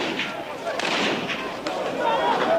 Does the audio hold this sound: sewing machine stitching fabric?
no